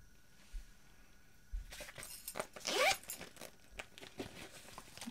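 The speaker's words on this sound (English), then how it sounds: "It's our completed zipper pocket at the front." A zipper runs on the front pocket of a handmade sewn bag, one quick close pull near the mic after a few soft fabric handling rustles, with no talk.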